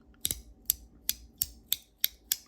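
A Lautie x ACEdc haptic coin fidget toy, metal, snaps through a quick series of seven or eight sharp, close clicks at a steady brisk rhythm, crisp and dry against a quiet background.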